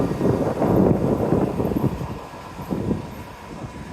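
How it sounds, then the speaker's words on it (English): An older Portland MAX high-floor light rail train rolls past nearby, a broad rumbling roar with rhythmic wheel clatter and some wind buffeting, swelling and easing over a few seconds. "That's an older high floor light rail, just like the ones in Denver."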